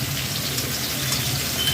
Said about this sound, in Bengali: একটু জল দেবো মশলা কষাবার জন্য।